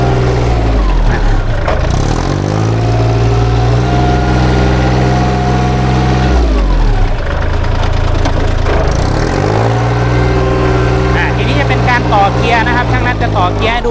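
A 2009 Kubota L3408 tractor's diesel engine runs steadily at idle, a loud, continuous low rumble throughout, with someone talking over it.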